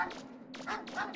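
A dog in the video game Mega Man Legends gives a few quick yappy barks in close succession, fairly faint, over a low game background hum.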